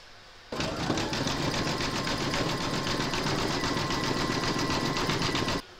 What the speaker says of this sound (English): You're now going to stitch round number 5, and that's going to zigzag the raw edge around the beak here.